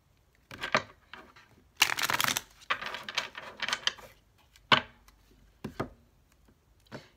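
Several short bursts of tarot cards being riffled and shuffled, with brief pauses between each pass, close up and fairly quiet.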